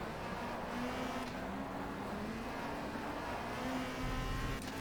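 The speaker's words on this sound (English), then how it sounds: "Car juddering under acceleration." Race car in the video game RACE: The WTCC Game, at Brands Hatch GP, juddering under acceleration: a steady, rough engine drone with a low pulsing buzz that holds throughout, no voices.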